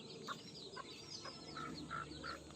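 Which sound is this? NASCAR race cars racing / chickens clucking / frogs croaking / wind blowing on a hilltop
chickens clucking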